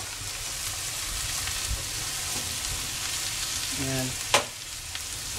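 Bagnet, crispy Filipino pork, sizzles while being sautéed in a pan for a monggo dish, a steady close frying hiss with a sharp clink near the end and a brief spoken word.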